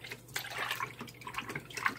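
A gas mask swished by hand through a basin of water, splashy irregular sloshing and dripping strokes close up over about two seconds, with no talking.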